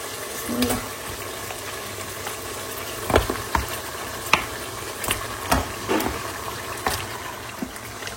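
Meat goes into a pan to cook, with scattered stirring knocks and scrapes over a low sizzle, close by and without talk.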